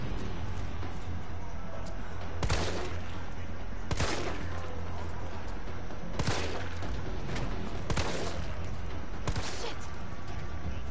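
Pistol shots in the Resident Evil 3 Remake video game: single loud cracks spaced a second or more apart, about six in all, over a steady low hum of background ambience.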